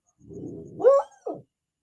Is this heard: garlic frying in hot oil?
no